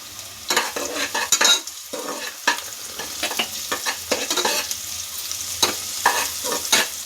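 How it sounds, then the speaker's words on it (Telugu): Onions fry in oil for a vegetable pulao while being stirred, a near sizzle broken by repeated bursts of scraping and spattering in an uneven rhythm. "ఆనియన్స్ ఇప్పుడు ఫ్రై చేస్తూ ఉన్నాము"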